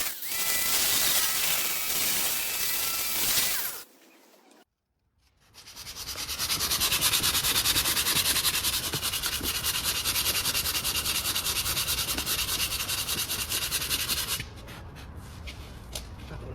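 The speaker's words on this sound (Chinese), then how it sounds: "外表再打磨一下。" The outer surface of a plastic car bumper, repaired with mesh reinforcement, is sanded by hand: steady, close rasping strokes that pause briefly and then run on in a long continuous scrubbing, with no talking.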